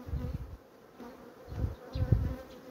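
Honeybees from a strong colony buzzing over an open hive during a queen-rearing starter setup, a low, dense hum that swells in several uneven surges, close by, with no talking.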